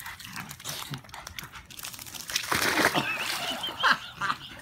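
A dog splashes into water on its first swim outdoors, a brief splatter rising midway through, with people talking and calling nearby throughout.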